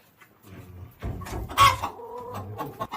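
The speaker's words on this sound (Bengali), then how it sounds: "ওই যে মুরগি দেখা যায়" Chickens cluck in a rural Amish village, a run of short clucks and squawks close by with one louder burst in the middle, no talking over them.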